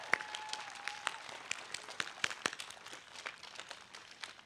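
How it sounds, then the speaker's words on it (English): Applause from the audience at a B Mitzvah ceremony for the students, a steady patter of many hands clapping at a moderate level with a few sharper individual claps. A brief whistle-like tone rises at the start. "I think we just have to have another round of applause for all of our students"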